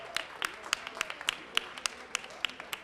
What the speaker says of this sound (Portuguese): uma forte salva de palmas para todos aqueles que possuem e portam TEA